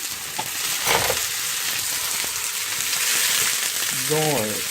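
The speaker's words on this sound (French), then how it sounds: "maintenant que notre huile est bien chaude, je vais déposer les oignons" Onions going into hot oil in a home kitchen, a steady bright sizzle running throughout at moderate loudness, with a brief voice-like sound near the end.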